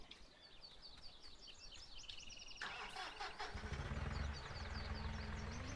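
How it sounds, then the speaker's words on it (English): A rusty-sounding tractor in the Farming Simulator game starts up halfway through and settles into a low, faint, steady engine rumble. Chirping birds sound behind it throughout. "And that tractor sounds a little rusty."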